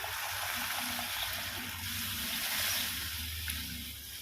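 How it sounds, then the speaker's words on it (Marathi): Water is poured into a pot of dal khichdi as it cooks, making a steady, soft rushing hiss that runs unbroken for a few seconds with no talking. "आता यात आपण पाणी टाकूया."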